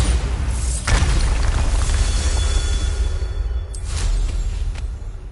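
A Bombarda spell explodes in a video game with a deep booming blast and rumble, followed by a second burst a few seconds later over continuous low background noise.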